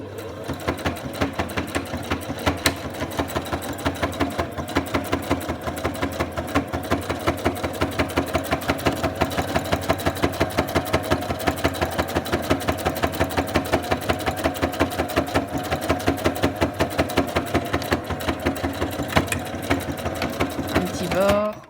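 A sewing machine runs steadily, stitching a narrow hem along the edge of a fabric mask, its needle chattering in a fast, even rhythm, close and continuous throughout.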